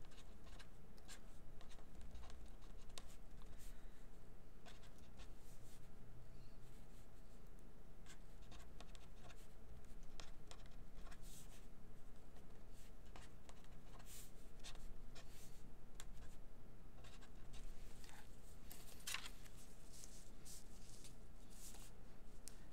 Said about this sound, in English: So let's write it down.